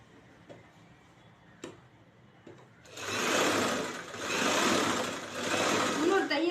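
A sewing machine stitching a blouse runs in a fast, steady whir after a few faint clicks, close and moderately loud, with brief pauses in the stitching.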